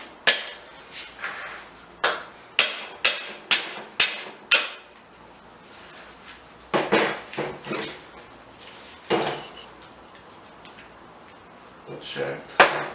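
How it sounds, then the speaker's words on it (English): A hammer knocks a part into a Toyota 7.5 IFS differential during a locker install, sharp metallic strikes coming close in a quick run of about eight evenly spaced blows, then a few scattered heavier knocks and shuffling. "We'll have to knock this with a hammer a couple times to get it to set in."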